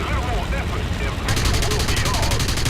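Rapid automatic cannon fire from a German fighter plane in the War Thunder flight game, a loud continuous burst of gunfire over engine drone with a person talking over it.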